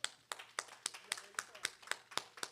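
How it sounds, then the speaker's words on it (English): Hands clapping at a university communications week event, a faint run of evenly spaced sharp claps at a steady rhythm. "So just kind of give them a round of applause."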